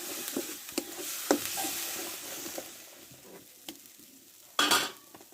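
Spice paste with coriander powder and a splash of water being stir-fried in a pan, soft sizzling under repeated scraping and clinking of a spoon against the pot, with one sharp knock near the end.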